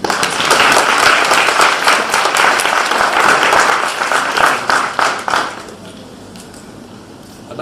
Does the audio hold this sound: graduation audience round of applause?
yes